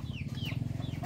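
Chickens cluck and give short rising calls in a rural Thai setting, heard faintly over a steady, rhythmic low hum.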